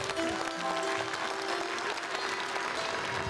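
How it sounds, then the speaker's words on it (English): A church congregation in Appalachia gives a hand clap for the Lord, a steady wash of many hands clapping at moderate distance, continuous and fairly faint, with a faint tonal hum running beneath. "Now let's give the Lord a big hand clap."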